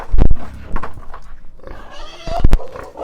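Pigs grunt and snort at feeding time on a small farm, several loud close bursts at irregular intervals with rustling between them.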